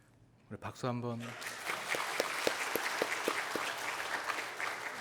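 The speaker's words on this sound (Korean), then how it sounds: "우리 박수 한번." A congregation at a church service claps after a brief spoken phrase, and the applause settles into a steady, moderately loud patter of many hands.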